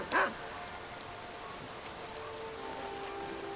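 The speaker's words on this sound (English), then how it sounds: "Get in from the rain." Steady rain patters and drips on surfaces in Skyrim, a soft continuous wash with a few louder drops, opening with a brief dog bark.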